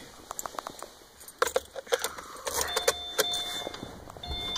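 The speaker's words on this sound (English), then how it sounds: "And just turn the car on." A car being switched on during heated rear seat wiring work: keys jangle with sharp clicks, then a soft electronic chime and a low hum rise as the system powers up.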